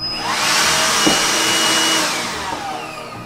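A Titan Power cordless vacuum cleaner whirs loudly nearby, a steady high-pitched whine that swells up and then tapers off, with no talking.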